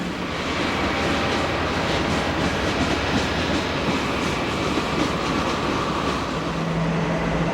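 A Norfolk Southern train rolls past on crushed stone ballast track, a loud, steady, close rumble with faint clickety-clack that holds evenly throughout, no voices.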